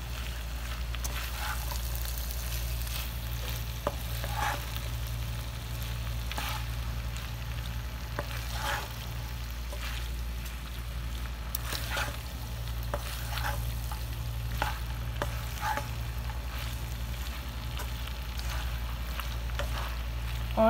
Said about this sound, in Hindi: अब हम इनमें ये चिप्स ऐड कर देते हैं। इसको डाल के हम मिक्स करेंगे।